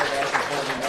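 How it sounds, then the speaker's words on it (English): A live audience at Breton Brewery claps, a brief burst of applause heard up close, with talking mixed in over it. "give him a round of applause"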